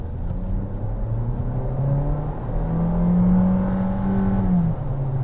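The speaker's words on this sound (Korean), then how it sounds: "이 차 특유의 조금 가녀린 엔진음이 나는데요" A Kia Seltos compact SUV engine climbs in pitch as it accelerates, its slightly thin whine rising smoothly through the gears, close and steady, no voices.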